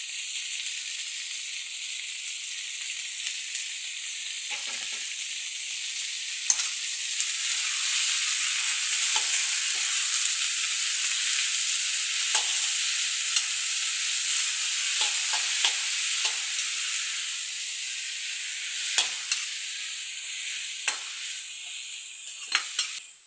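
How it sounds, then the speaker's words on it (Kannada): Chopped tomatoes, garlic, ginger, mint and coriander sizzle steadily in a hot pan for a dhaba-style paneer masala, a loud continuous hiss broken by occasional stirring scrapes and clicks, with no voices. "ಇವಾಗ ಕಟ್ ಮಾಡಿದ ಟೊಮೆಟೊ ಇದನ್ನು ಹಾಕ್ತಾ ಇದ್ದೇನೆ ನಾವು ಇದರ ಜೊತೆನೆ ಬೆಳ್ಳುಳ್ಳಿ ಆಮೇಲೆ ಶುಂಠಿ ಪುದೀನ ಕೊತ್ತಂಬರಿ ಅದೆರಡನ್ನು ಹಾಕ್ತಾ ಇದ್ದೇನೆ"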